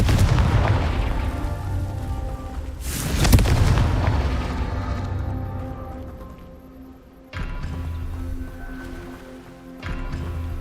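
Confringo fire spell explosions in the Hogwarts Legacy video game, a sharp heavy boom rolling into a long fading rumble, followed by two further dull impacts that swell and linger.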